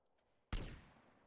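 A single sharp sniper rifle gunshot in GTA bursts out of near silence, loud and close, then trails off in a long ringing decay.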